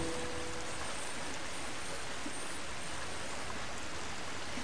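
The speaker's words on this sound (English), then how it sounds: "Very loud waterfall." A loud, steady roar of a waterfall in Harry Potter and the Philosopher's Stone on PC, dense rushing white noise that stays constant from start to finish.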